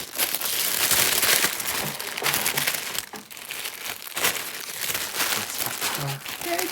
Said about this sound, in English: It's a tissue paper